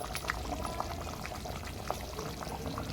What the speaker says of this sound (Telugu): మేము వాటర్ యాడ్ చేసుకొని గ్రేవీ రూపంగా వేసుకుంటున్నాం